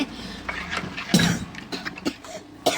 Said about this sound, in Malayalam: തൊണ്ടക്കൊരു അസ്വസ്ഥത ഉണ്ട് അതോട് ചുമ വരുന്നുണ്ട്